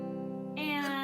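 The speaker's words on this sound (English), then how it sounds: "A major chord like this," A major chord strummed on a guitar rings out as sustained harmonic tones, with a brighter attack partway through as a second strum or added strings sound, close and clear, with no talking.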